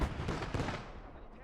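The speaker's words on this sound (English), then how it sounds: "that artillery barely missed my tank" Artillery from a tank warfare video game, one heavy blast with a booming low rumble that fades over a second and a half.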